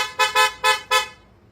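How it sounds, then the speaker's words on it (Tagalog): A Bosch EC6 horn on a Honda ADV 160 scooter sounds four short, loud, bright honks in quick succession, close by and with no talk over them, the last one ringing out briefly. "Tapos Bosch horn."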